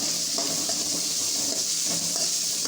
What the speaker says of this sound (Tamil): வெங்காயத்தை நல்லா வதக்கிடுங்க